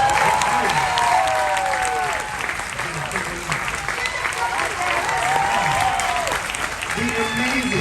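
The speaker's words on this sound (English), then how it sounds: "let's give a huge round of applause for him" Audience applause for guest stars at a show introduction, loud sustained clapping with some cheering, while a voice speaks over it.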